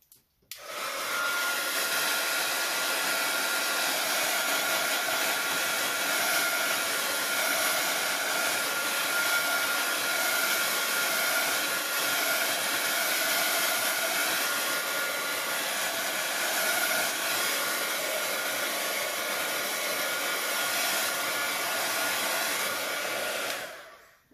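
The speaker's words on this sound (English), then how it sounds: "we'll dry him off a little bit with the heat gun" A simple craft-store heat gun drying acrylic paint on a birch tree painting, a steady loud blowing whir that runs without a break for the whole stretch, with no talking.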